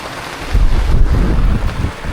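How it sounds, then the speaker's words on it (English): Strong gusting wind from a rain squall buffets the microphone with a roaring rush and low rumble, a steady noisy squall without any voices, aboard a sailboat at Placencia. "We got ourselves a pretty good squall."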